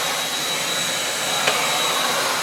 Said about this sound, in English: So an excellent vacuum for little cleanup jobs